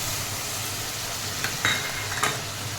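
Water is poured into a frying banana flower curry, a steady loud sizzle with brief splashing bursts near the end, close and without talk.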